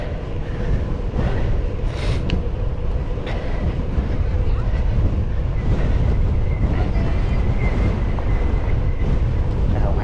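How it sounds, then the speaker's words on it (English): Constant wind buffets the microphone during a ride to work with a low, rumbling roar that holds steady throughout, dense and loud with no clear pauses. "It's windy here"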